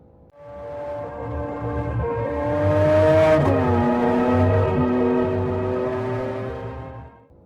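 A luxury car engine revs up smoothly to a sustained whine, then eases off, heard alone and fairly loud for several seconds.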